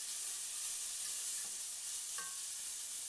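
Julienned zucchini noodles with garlic and basil being stirred in a sauté pan, a steady close sizzle with a couple of brief utensil scrapes.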